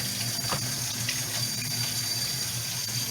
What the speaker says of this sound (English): we're going to go ahead and rinse that off